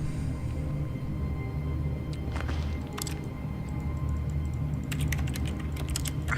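Keyboard keys clicking while playing The Stanley Parable on a computer, a few scattered clicks and short bursts of typing over a steady low hum, close and fairly quiet, with no talking.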